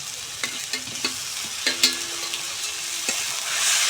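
Fried potatoes drop into sizzling spice paste for a ridge gourd, potato and fish curry, then get stirred: a bright steady sizzle broken by several sharp scraping knocks of a spatula against the pan, close and loud.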